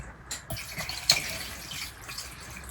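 Water poured into an electric paintbrush cleaner used for scale model painting, a short splashing trickle with a few drips, moderately close and fairly quiet, with no talking.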